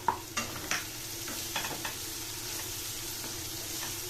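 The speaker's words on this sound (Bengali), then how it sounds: "এবার আমি দিয়ে দেবো ক্যাপসিকাম।" Capsicum stir-fries in a pan for vegetable and egg fried rice, a soft steady sizzle broken by a few clinks and scrapes of the spatula against the pan, fairly quiet and with no talking.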